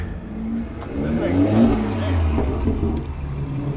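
A BMW M240i with a B58 engine and Pure 800 turbo idles and warms up nearby. It gives a low, steady hum with a slight swell in the middle and faint mechanical ticks.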